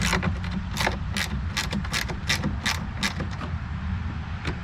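A hand ratchet works loose bolts on an Audi Q7 bumper during body repair, producing quick bursts of sharp clicking over a steady low background rumble, close up with no voices.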